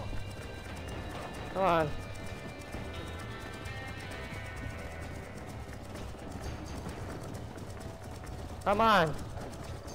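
Rhythmic hoofbeats of a fast stallion galloping in Red Dead Redemption, steady clip-clop throughout with two loud neighs, while a player's voice speaks briefly over the running horse.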